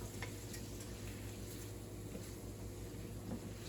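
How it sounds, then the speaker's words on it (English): Mushrooms sauteing in a pan for a turkey casserole, a low steady sizzle with faint stirring, close and continuous with no talk. "I'm finishing up on my saute. So I'm going to go ahead and add these mushrooms."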